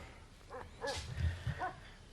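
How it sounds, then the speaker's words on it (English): A dog at a house barks and whimpers a few times, fairly faint and indoors, in short separated yips over a low background hum. "the dog's barking, see if she's at the door"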